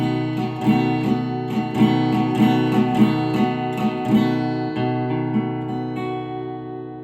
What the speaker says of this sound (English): that's your B7th open chord